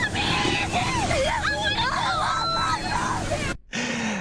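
Actors at a haunted car wash Halloween attraction in Southern California let out loud, wavering screams and shrieks over a dense wash of voices and noise, ending in a brief cut of silence.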